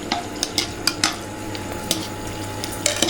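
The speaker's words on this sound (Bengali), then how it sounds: "এই ফুচকাগুলোকে এখন ভেজে নেব।" Fuchka shells fry in hot oil in a pan, a soft steady sizzle broken by sharp clinks and scrapes of a utensil against the pan.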